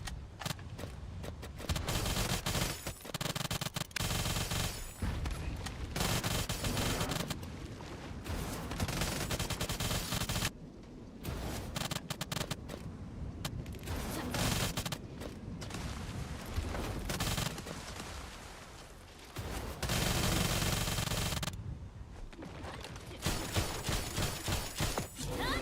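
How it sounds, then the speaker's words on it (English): Gunfire rips through the video game The First Descendant: sustained, loud bursts of rapid automatic shots broken by brief pauses, with mechanical clatter and shattering impacts mixed in. "There's some shooting there."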